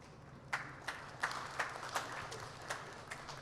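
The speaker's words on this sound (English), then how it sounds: "a big round of applause to cybersecurity and also UTEM" Applause after opening remarks at a cybersecurity event, quiet and sparse, with a handful of distinct, separated claps standing out over a low background hum, sounding like a small audience clapping thinly.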